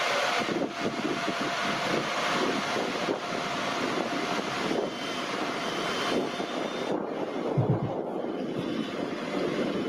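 Jet-powered RC model plane carrying a pilot and passenger figure, with an afterburner, flying at an outdoor field: a steady, fairly loud turbine roar with wind buffeting on the microphone throughout, no voices.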